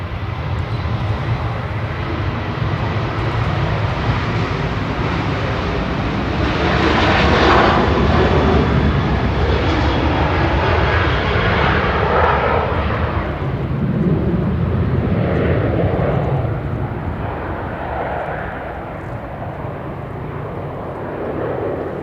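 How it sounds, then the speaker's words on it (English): Boeing 737-800 jet taking off at Manchester Airport, a loud sustained engine roar that swells to a peak midway and then slowly fades as it climbs away, with no voices. "GFDZY 737-800 on the roll"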